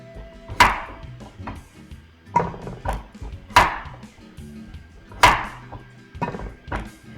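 A knife cuts sweet potato into couple-inch chunks on a board, making a series of sharp, separate chopping thuds at an uneven pace, close and fairly loud with short quiet stretches between strokes.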